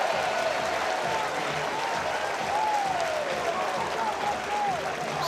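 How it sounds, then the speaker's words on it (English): A standing ovation from the Aggie crowd at a Texas A&M college baseball game, dense sustained clapping and cheering from a large stadium audience, steady throughout, with a commentator talking over it. "Now he'll get a standing ovation."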